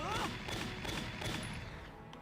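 Gunfire bursts from the PlayStation 3 strategy game Valkyria Chronicles, several broadband shots in quick succession over steady game background noise, moderately loud.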